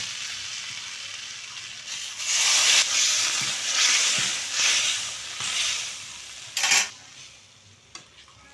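Fried potatoes and pointed gourd hit a hot spice paste in a pan, sizzling and hissing loudly in waves as they are stirred and scraped, with short clattering knocks near the end.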